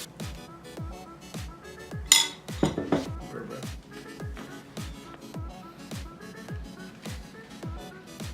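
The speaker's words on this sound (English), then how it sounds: "I'm just mixing everything up right now." Burger ingredients with peppers, cheese and mayo are mixed in a bowl, making a steady rhythm of close utensil clinks and scrapes against the bowl with a short clatter partway through.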